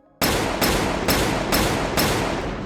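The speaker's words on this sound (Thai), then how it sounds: "หลังจากนั้นเสียงกระสุนนานาชนิดก็ถูกยิงตอบโต้อย่างหนักหน่วงรุนแรง" Five heavy gunshots boom in steady succession about half a second apart, loud and close, each blast ringing into the next.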